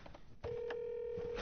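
A telephone call rings unanswered: after a brief soft start, a steady electronic ringing tone holds for about a second, faint and distant.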